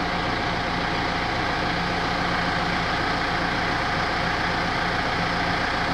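A Renault Espace 4 engine idles during a coolant circuit flush, a steady low rumble that stays even and unbroken throughout, close and alone.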